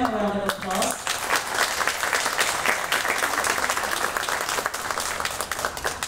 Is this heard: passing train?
no